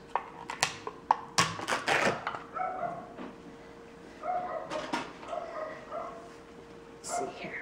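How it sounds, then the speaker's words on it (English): Dogs bark and yip in short bursts, some sharp and close, with whimpering between and a voice briefly present. "Ugh, dogs."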